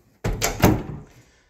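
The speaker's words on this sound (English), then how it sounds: "Door out to the garage." A house door out to the garage swings open with a couple of close, sharp thumps and clicks, followed by a short rattling tail that fades into quiet.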